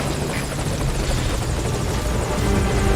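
Helicopter in the Metal Gear Solid V: Ground Zeroes video game, its rotor thumping in a loud, continuous drone close by, with no voices over it.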